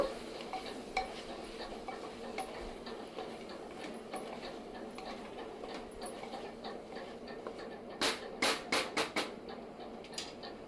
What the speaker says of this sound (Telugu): వన్ టీ స్పూను జీలకర్ర పొడి వేస్తున్నాను ఇంకంతా బాగా కలుపుకోవాలి